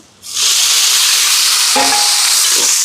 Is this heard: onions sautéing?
yes